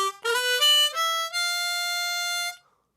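Harmonica playing a smooth blues riff slowly, a few short reedy notes stepping down in pitch before a long held low note that rings out, then stops into silence.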